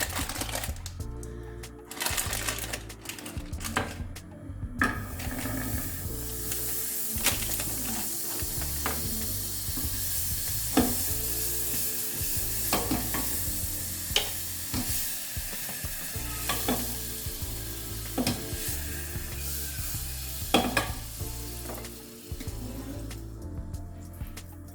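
Chicken bacon frying in butter with a little olive oil in a pan, stirred steadily, with a constant sizzle broken by repeated scraping and clicking strokes of the utensil, close and alone without talk.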